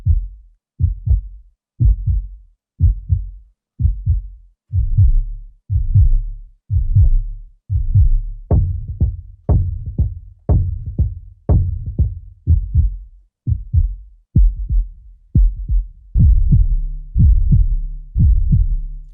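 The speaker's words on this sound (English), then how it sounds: "I use these quite a lot, these deep heartbeats." Deep, booming heartbeat sound effects from the Wildhunt library, close and loud, pounding in a steady repeating rhythm of double thumps that grow more forceful midway.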